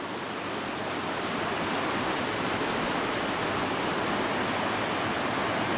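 Floodwater of the overflowing Akse creek rushing past flooded gardens and fields, a steady, loud, dense roar that holds unbroken throughout with no voices over it.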